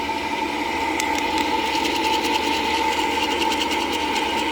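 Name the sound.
coffee beans popping while roasting in backyard roaster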